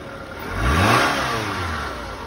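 A car engine at a city auction, started with a jump, revs up from idle, swells to a peak, then settles back to a steady mid-pitched run, fairly close and with no voices.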